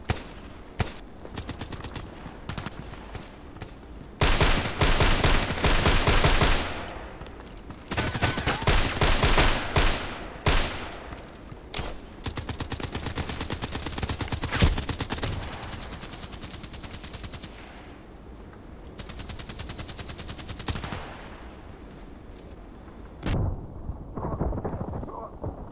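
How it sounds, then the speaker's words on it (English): Gunfire in a first-person shooter video game: repeated bursts of automatic fire and single shots, loud and close, coming in uneven clusters over a couple dozen seconds with brief lulls between volleys. "Blind shooting."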